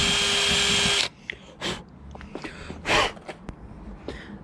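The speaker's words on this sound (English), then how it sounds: "Have you seen the size of the drill bit?" A power drill boring into a van body to fit an electric hookup point: a loud, close, high whine lasts about a second and then stops, followed by quieter clatter and handling sounds.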